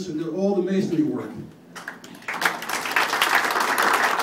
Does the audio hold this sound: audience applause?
yes